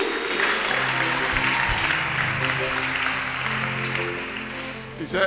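A church congregation claps and cheers in acclamation of Jesus, a loud steady wash of applause over a low sustained musical drone, with some voices mixed in.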